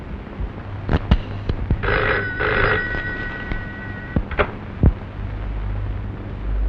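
An old-style telephone bell rings loudly in a Telugu family drama film, with a sustained ring of a couple of seconds between clicks and thumps, and no talk over it.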